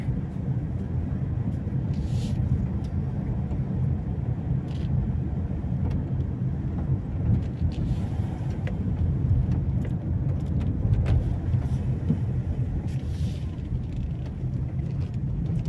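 A car driving around the residential streets of Houghton Regis, UK: a steady low engine and road rumble heard from inside, continuous and even throughout with a few faint rattles and no talking.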